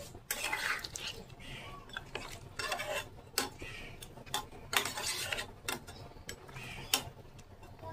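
A spoon scrapes and clinks against a pot while Rita fish head curry with taro is stirred, giving irregular sharp metallic taps and wet scraping strokes at close range, without any voices.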